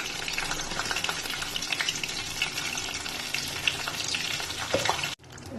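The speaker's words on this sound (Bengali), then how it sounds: "তেজপাতা ফোড়ন দেবো, লঙ্কা ফোড়ন দেবো" Bay leaf and dried chili tempering crackle and sizzle steadily in hot oil for a veg chhanar kofta curry with potatoes, a dense continuous frying hiss with small pops, stopping abruptly near the end.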